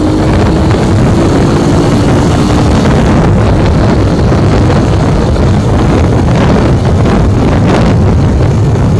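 Strong wind on a boat roars steadily and loudly into the microphone, a constant buffeting rush with a low engine-like rumble beneath and no voices.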